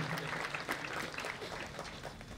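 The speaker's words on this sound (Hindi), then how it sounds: "तालियों का उत्साह कर्मचारियों को प्रोत्साहित करता है।" A crowd claps steadily at an Independence Day celebration, a dense continuous patter of hands at moderate, fairly distant level.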